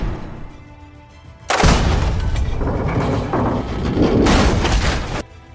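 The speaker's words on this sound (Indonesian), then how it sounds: "Jay Burn yang sakit hati atas tewasnya Jackie langsung dor si Matty Nix di tempat." Gunfire in the action film The Rip comes as two long, loud, dense bursts of booming shots separated by a brief lull, close and harsh, with no speech over it.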